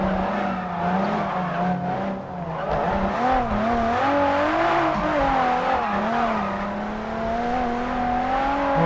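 Toyota AE86 racing in a driving game, its engine droning and rising and falling in pitch continuously, with tire squeal mixed in, loud and steady throughout.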